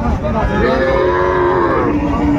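Young bull calf at a cattle market lets out a single loud, drawn-out moo that swells and then tapers off, heard up close over steady market crowd noise.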